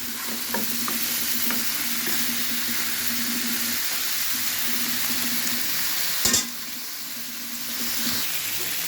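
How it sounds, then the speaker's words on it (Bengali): Leafy greens with potatoes and beans sizzle in hot oil as they are stirred, a loud, steady close-up hiss with light scrapes and one sharp clank of the utensil partway through, with no talking. "এটা আর কিছুক্ষণ ভাজবো একদম ভাজা ভাজা করে ফেলবো"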